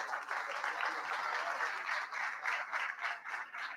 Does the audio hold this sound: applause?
yes